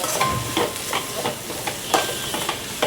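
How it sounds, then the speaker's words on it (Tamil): Tomatoes sizzle and hiss in a pan while a spatula stirs them with rhythmic scraping strokes, close and steady. "இதில் தக்காளி போட்டு வதக்கிக்குவோம்."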